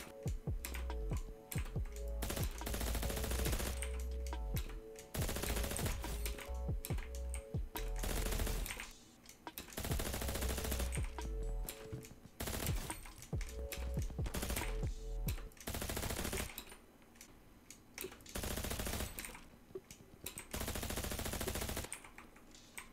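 Rapid Uzi machine-gun fire in the browser shooter Krunker, loud repeated bursts of a few seconds each separated by short gaps, with overlapping shots and game effects and no talking.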